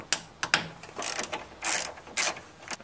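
A ratchet clicks in short bursts while undoing the engine mount bolts of a BMW E34 from below, with sharp ticks and brief rapid ratcheting runs, close up and without talk.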